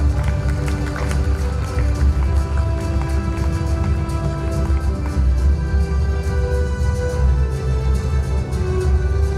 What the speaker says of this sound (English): A huge round of applause for Little Pearls.